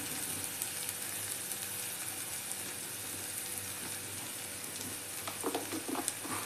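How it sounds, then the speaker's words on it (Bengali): Spice paste frying in a pan with a soft, steady sizzle throughout, fairly quiet, with a few brief clinks of stirring near the end and no talking. "মশলাটা একটু ভালো করে ভাজা ভাজা করে"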